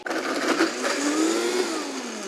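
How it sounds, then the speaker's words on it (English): A kitchen blender grinds bread into breadcrumbs with a loud, continuous whirring roar and a motor tone that slowly rises in pitch, close by and with no talking. "we're making breadcrumbs in the blender"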